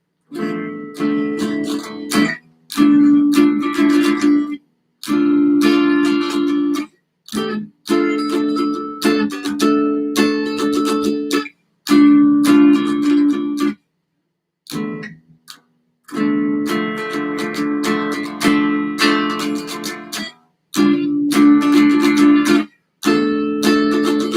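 Guitar playing a run of inside chords, bright strummed and picked chords in short phrases separated by brief silences, close and clear with no talking.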